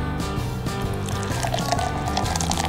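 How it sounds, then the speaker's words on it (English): Beer poured badly into a pint glass, a steady liquid gush filling the glass over a few seconds and building up a large foamy head, heard fairly close and alone. "I'm gonna pour the beer wrong."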